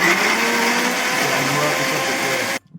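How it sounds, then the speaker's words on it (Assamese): A mixer grinder grinds carrot and beetroot with a loud, continuous whirring motor roar close by, running steadily for about two and a half seconds before stopping abruptly, with no one talking over it. "গাজৰ বিটৰুট যোনখিনি আছিলে সেইখিনি গ্ৰাইণ্ড কৰি"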